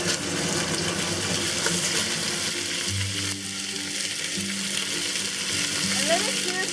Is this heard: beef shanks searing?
yes